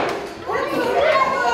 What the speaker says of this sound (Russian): дети играют, не сидят на месте